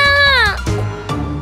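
A cartoon cat gives a single loud, close meow that bends downward in pitch, followed by two brief softer vocal sounds, with no talking over it.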